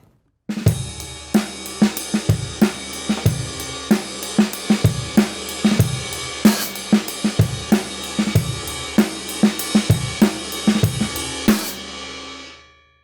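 Heavy booming big drum hits imitating lightning strike at a steady rhythm over a sustained ringing tone, loud and resonant, ending in a long fading wash.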